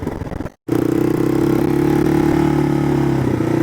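A cheap used three-wheeler's engine runs loud and close in third gear, a steady mid-pitched drone with a clattering edge after a brief cut near the start, and no talking over it.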